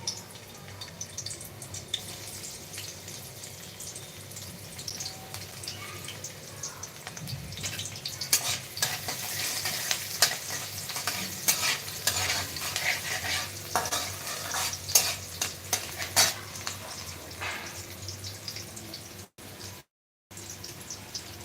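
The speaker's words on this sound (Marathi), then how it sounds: "तर तेलामध्ये कट केलेला कांदा टाकून घेते" Chopped onion frying in oil for a chicken kala rassa curry, a steady soft sizzle with occasional stirring scrapes, close and continuous with no talking.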